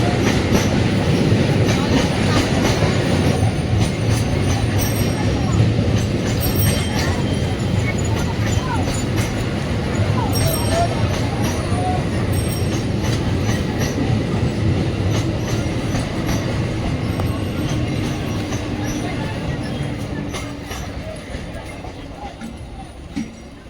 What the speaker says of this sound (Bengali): আর এদিকে ডাউন ট্রেনটা ঢুকছে